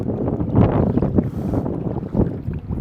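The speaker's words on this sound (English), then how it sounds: "God, it's windy. I wonder if you guys can hear that wind" Strong wind buffeting a microphone while kayaking out on the water, loud irregular gusts of low roaring rumble that swell and ease over a few seconds.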